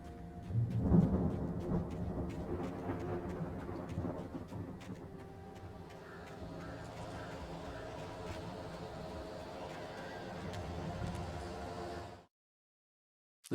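Thunderstorm in the Alan Wake video game: heavy rain pours steadily while a loud thunder crack breaks early and rumbles on, all ending in abrupt silence near the close.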